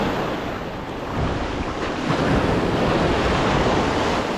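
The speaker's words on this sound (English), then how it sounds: "there's some waves coming in a slight direction right to left" Sea waves roll in from right to left along a bass-fishing shore, making a steady, dense wash of surf mixed with wind buffeting the microphone, with no voices.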